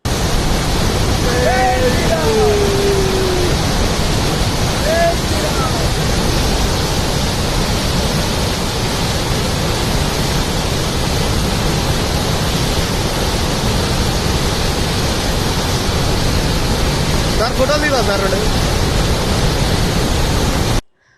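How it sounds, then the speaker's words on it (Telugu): Godavari water released from the Sitarama project pump house roars as a loud, dense, unbroken rush. A faint voice or bird call rises briefly above it. "గోదావరి జలాలను అధికారులు దిగువకు విడుదల చేశారు."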